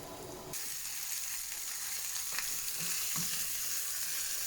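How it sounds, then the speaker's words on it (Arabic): Skate wings frying in a pan, a steady close sizzle and crackle of hot oil with a few faint stirring clinks, moderately quiet and continuous, no voices. "نحمرو على زوج جوايح يعني ما نخلوش يطيب بزاف"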